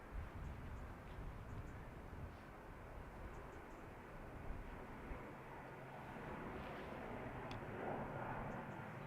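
An Aer Lingus airliner arriving from Manchester at Dublin Airport, heard as a faint, distant, steady low engine roar that swells slightly toward the end, with no talk.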